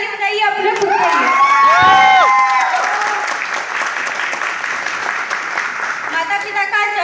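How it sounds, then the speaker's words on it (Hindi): An audience at a business seminar bursts into loud, sustained applause with cheering and whoops, a dense wash of clapping close by, mixed at first with a voice shouting over the crowd. "एक बार आप लोग भी जबरदस्त ताली बजाइए अपने खुद के लिए"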